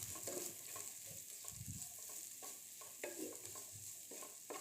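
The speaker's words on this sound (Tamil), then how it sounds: "இது ஒரு 2 மினிட்ஸ் இந்த மாதிரி வதக்கிக்கோங்க" Thinly sliced onion sautéing with Maggi noodle ingredients in a pan, a soft, faint continuous sizzle under slow repeated stirring and scraping strokes, with no voices.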